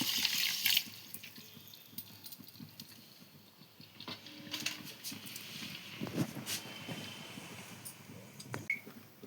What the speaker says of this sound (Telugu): 3/4 కప్పు నీళ్లు పోస్తున్నానండి